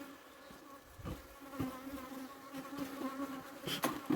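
Steady insect buzzing from many bees, a continuous droning hum with a few louder passes close by.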